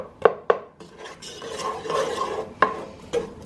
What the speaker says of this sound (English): And I'm just going to stir that up. I'm going to use a wooden spoon today.